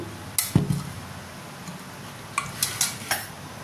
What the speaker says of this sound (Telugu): అల్లం వెల్లుల్లి పేస్ట్ వేసి పసుపు సాల్ట్ వేసి ఆవగించేసుకున్నానండి